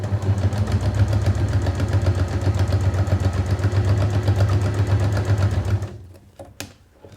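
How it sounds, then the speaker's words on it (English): Sewing machine stitching the sides of a zipped make-up bag, a steady close rapid mechanical whirring for about six seconds that stops abruptly, followed by faint handling clicks. "And you just want to sew these sides up."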